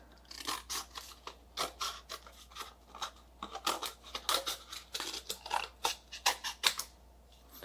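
Scissors snip through folded acid-free paper for an omnibus book, giving a close run of quick, crisp, crunchy cuts in an irregular rhythm with no talking.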